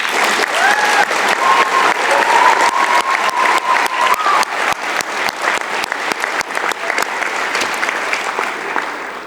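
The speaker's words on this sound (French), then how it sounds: "Vous pouvez les applaudir." An audience applauds at the FerMUN closing ceremony, with loud, dense clapping and scattered sharp individual claps, a brief whistle or cheer early on, and the clapping gradually thinning near the end.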